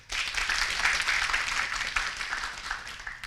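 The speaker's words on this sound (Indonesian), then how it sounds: "Tepuk tangan buat kita semuanya." Students applaud at a university orientation event, a dense burst of crowd clapping that swells after a sharp start and gradually thins toward the end, with no talking over it.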